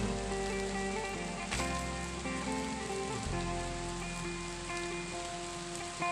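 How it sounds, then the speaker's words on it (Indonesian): Steady rain falls on a roadside garden plot in a forest area where chili plants are being planted, a dense continuous patter close by with no one speaking. "Sudah turun hujan."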